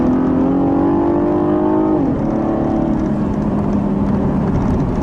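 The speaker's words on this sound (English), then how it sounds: "I love the sound that V6 makes" A 2015 Cadillac ATS Coupe's V6 engine drones loudly and steadily, its pitch dropping once partway through as if shifting gears, then settling into a lower hum.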